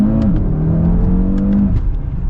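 A new Audi RS3 engine revs loudly and up close. The tone climbs and then drops back through a couple of quick pitch swings.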